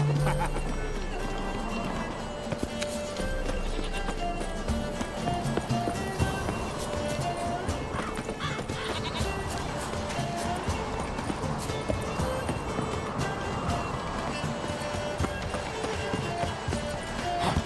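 A horse gallops in a race in the video game Witcher 3 Wild Hunt, with rapid rhythmic hoofbeats running throughout alongside game music and ambient effects, under ongoing talk.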